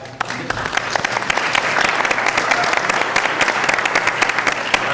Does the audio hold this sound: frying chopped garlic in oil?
no